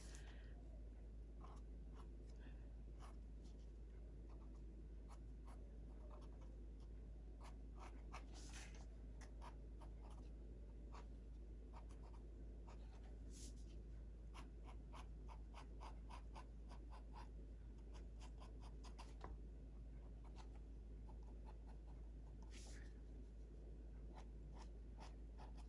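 A Sharpie marker squeaks and scratches across paper in short strokes and quick dabs, very faint and close, with a steady low hum underneath and no talking.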